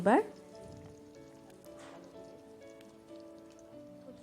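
Nigella seeds (black cumin) sizzle in hot oil for Bengali pui gutir chorchori, a steady soft crackling hiss that runs throughout, with a brief voice at the very start.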